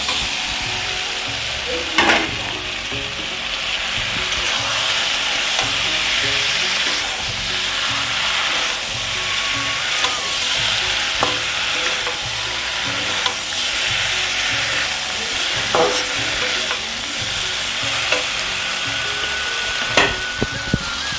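Steady sizzling of prawns frying in a pan with Kashmiri chilli powder, with occasional stirring clinks and scrapes across the whole stretch, close and fairly loud.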